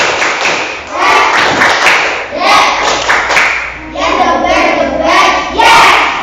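Classroom of fourth-grade children performing the 'tepuk semangat' spirit clap: loud rhythmic group clapping bursts and chanting voices, repeated in several quick patterned rounds.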